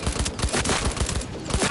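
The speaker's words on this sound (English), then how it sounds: "The shotgun isn't working very well." Shotgun firing in Cyberpunk 2077 during close-quarters combat: a dense, loud barrage of rapid, overlapping blasts and impacts that continues without a pause.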